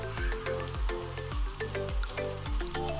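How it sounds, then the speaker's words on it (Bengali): Dried red chillies fry in a pan with a steady crackling sizzle, joined by repeated soft knocks in a regular rhythm, close by and with no voices. "একটু ভেজে নিচ্ছি।"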